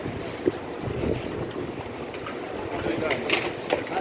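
Strong wind and rain sweep through a storm in Mecca near the clock tower, with gusty blustering rushes, buffeting microphone noise and scattered spatters.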